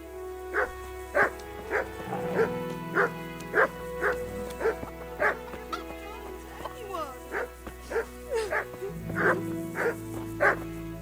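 Dog barking in the medieval video game Kingdom Come: Deliverance, a steady series of sharp, evenly spaced barks over a low ambient drone, with brief talk mixed in partway through.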